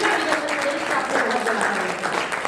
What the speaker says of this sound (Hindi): एक बार जोरदार तालियों से हम सभी